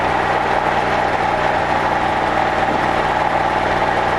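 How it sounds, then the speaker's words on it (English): A small airplane engine runs at full throttle on the takeoff roll, a loud, steady droning roar heard from inside the cockpit with no talk. "So we are full throttling it."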